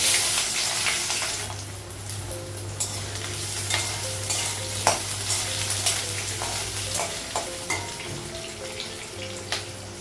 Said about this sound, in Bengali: পাঁচফোড়ন দিই এলাচি কাঁচা লঙ্কা আর আলুটা একসাথে লাগিয়ে দিই